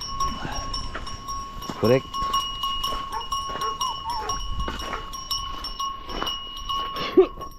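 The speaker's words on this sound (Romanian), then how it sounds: "Uite, tu ne vine tătă turmă." A flock of sheep wearing cowbells arrives in a rural village in Maramureș, with steady clanking bells, scattered bleats and hoof shuffling, while people talk nearby over the moving herd.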